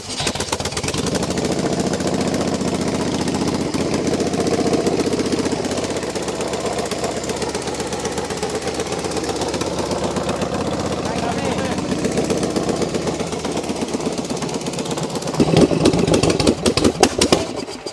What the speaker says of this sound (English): we're going to start the bike